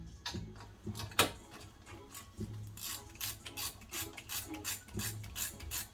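A hand ratchet tightens brake caliper bolts on a 2013–2019 Ford Escape with a 4-cylinder engine, giving a quiet run of rhythmic rasping clicks close by, some strokes sharper than others, with no talk.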